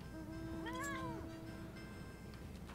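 A cat meows once in a video game, a single rising-and-falling call over steady game background noise and a constant hum.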